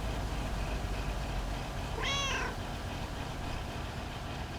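Mortimer the cat gives one short, rising-then-falling meow in the Lake video game, heard clearly over a steady low background hum.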